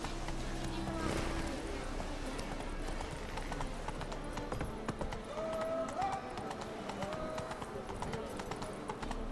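Horse hooves gallop in a steady clip-clop rhythm through The Witcher 3, with an occasional whinny and a person talking over the running hoofbeats.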